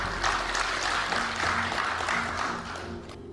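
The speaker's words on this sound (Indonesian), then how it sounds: "tepuk tangan dulu" An audience at a gathering of the Aliansi Borneo Bersatu in Kalimantan breaks into close, continuous applause that holds steady, then tapers off at the end.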